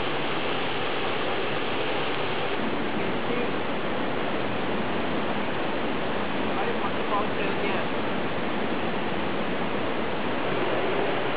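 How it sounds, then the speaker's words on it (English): A small jungle waterfall at Parit in Cameron Highlands pours into a pool below, making a constant broadband rush of splashing water that stays steady and fairly loud throughout. "you can hear the pounding sound of the water as it splashes to the pool below"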